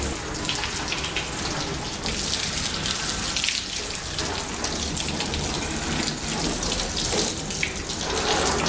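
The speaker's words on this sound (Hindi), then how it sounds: "पहले गाड़ी को अच्छी तरह से ऊपर से नीचे तक गीला कर लीजिए." A water hose sprays steadily over a car to wet it down, loosening dry dirt before a chemical-free wash, with a continuous close hiss and splatter that stays even throughout, no talking.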